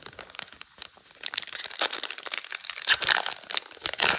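Close, crisp crinkling of a Black Myth Wukong trading card booster wrapper being handled and opened. A brief quiet lull comes first, then steady rustling builds into louder crackles.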